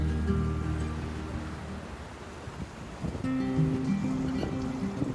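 A motorboat's engine drones over lapping water and wind as it circles making waves, its tone shifting partway through as the boat moves nearby.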